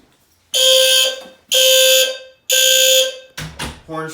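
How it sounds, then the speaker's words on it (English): An SFP-10UD fire alarm panel's horn strobe sounds during a system test, giving three loud, steady electronic horn blasts about a second each with short gaps, followed by a brief burst of mechanical rattling. "Horn strobe sounding."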